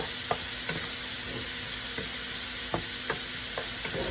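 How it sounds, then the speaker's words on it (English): Ginger and garlic sizzle steadily in a hot pan while a utensil pushes and stirs them, giving soft scraping taps every half second or so over the constant frying hiss. "I'm just kind of pushing this aside so I can sort of get my ginger and my garlic brown."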